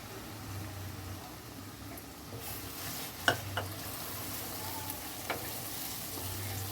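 Onions and spice paste fry in a pan with a steady sizzle, broken by a few sharp clacks and scrapes of stirring, close and moderately loud.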